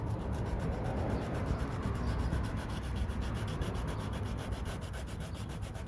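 Rust is sanded off a car panel, making a continuous, close, raspy abrasive rubbing with a fast, even stroke rhythm and no talk.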